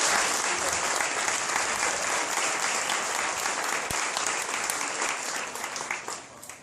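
Church congregation applauding during a sermon, a loud, dense, continuous burst of clapping that holds strong for several seconds before easing off near the end.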